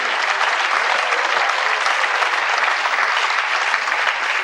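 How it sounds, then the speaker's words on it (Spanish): Sustained applause from a church congregation during a sermon, a dense, even wash of many clapping hands heard at a distance and steady throughout. "Puede darle un aplauso al Señor si así lo desea"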